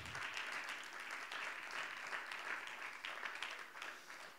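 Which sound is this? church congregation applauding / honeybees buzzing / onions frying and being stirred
church congregation applauding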